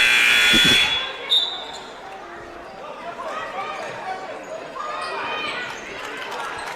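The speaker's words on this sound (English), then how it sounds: "Buzzer sounds." A loud, harsh electronic buzzer blares for under a second in a gym during a West Lyon at Boyden Hull girls' high school basketball game, then crowd murmur, shoe squeaks and a scattered voice carry on behind it.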